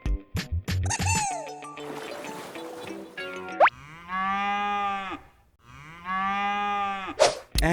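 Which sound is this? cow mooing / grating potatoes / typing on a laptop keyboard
cow mooing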